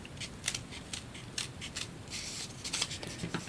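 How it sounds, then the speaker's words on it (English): Scissors snip steadily through material to cut out stones for a homemade mini weiqi game set, a quiet run of crisp, closely spaced cuts under faint background hiss, with no voices. "and then you just use your scissors"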